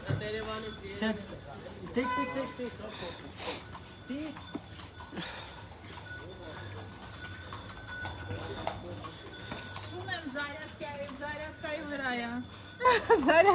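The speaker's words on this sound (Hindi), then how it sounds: "ये है आर्मेनियन घोड़े" Armenian horses clip-clop on a cleared lane during an outdoor film shoot, the hoofbeats faint and irregular beneath ongoing talk and background bustle.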